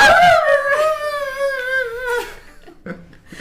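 A person imitating a dog's odd whinnying cries, a drawn-out, wavering high whine that bends and fades, followed by a few softer breathy sounds, close and alone.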